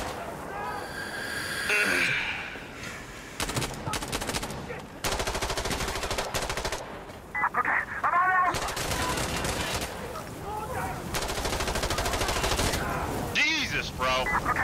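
Rapid bursts of automatic gunfire from an online multiplayer shooter game, several separate volleys with brief gaps between them, loud and crackling, with a voice talking over some of the shooting.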